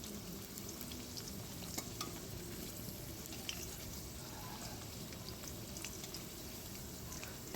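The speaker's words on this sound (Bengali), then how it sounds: "আর পাঁপড়টা ভেজে নিচ্ছি সবার আগে" Papad, lentil wafers, frying in hot oil in a home kitchen, a steady faint sizzle and bubbling with small crackles and occasional stirring clinks, heard alone without talk.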